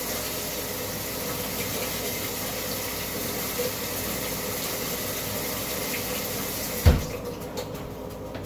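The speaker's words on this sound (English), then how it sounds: "The water just goes down the sink." Water draining through a colander into a sink during bee mite testing, a steady broad hiss of running water held for several seconds, ending with a sharp knock and then quieter trickling.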